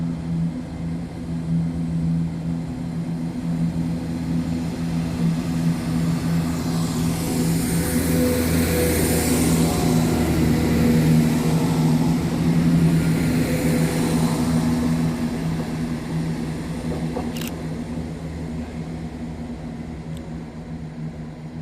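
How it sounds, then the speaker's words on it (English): ScotRail train 17395 pulls out of platform 3 at Edinburgh Haymarket station, a steady diesel engine drone that slowly swells and then fades as it departs, with a brief clank near the end. "Departing on platform 3 is 17395 with the 1904 Scotrail service from Edinburgh Waverley to Dundee."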